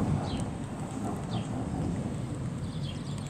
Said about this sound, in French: Enfin, il pleut maintenant